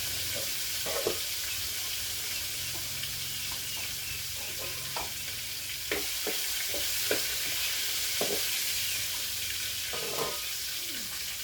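Food frying in oil in a home kitchen, a soft continuous sizzle with scattered clicks and utensil taps against the pan, no voices.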